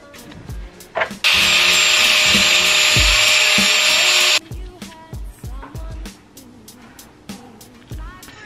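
A rotary cutting tool slicing off a corner of a part on a Nissan KA24DE engine, a loud steady high whine for about three seconds, surrounded by knocks and handling clatter and some talking.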